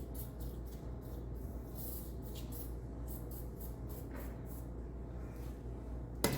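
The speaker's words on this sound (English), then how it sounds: "we'll squirt her with some lube and add that to our arsenal" Short hissing bursts of lube sprayed onto a rusted 7/16 ratchet repeat in quick succession over a steady low hum, ending with a sharper clack.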